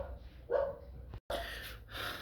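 Dogs bark in a few short bursts somewhere in the house while a loose door is being repaired, moderately loud with a brief gap of silence between them.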